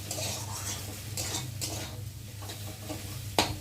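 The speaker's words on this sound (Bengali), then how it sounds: "এবার আমি আলুর সাথে একসাথে ডিমগুলোকে ভেজে নেব।" Eggs and potatoes fry together in a pan, with a steady sizzling hiss and repeated scraping and stirring of a utensil, and a sharper clink near the end.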